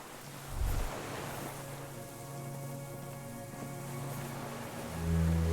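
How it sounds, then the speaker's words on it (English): Distant cargo ships on open water in the game Disco Elysium: a steady wash of rain-like ambient noise with faint low hums, a soft thud early on and a deeper low tone swelling near the end. "The distant sound of cargo ships."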